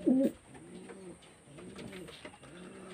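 Adult pigeons cooing in a loft, a series of soft, rounded low coos repeating in a slow rhythm after a brief louder flutter at the start, fairly close and alone without talk.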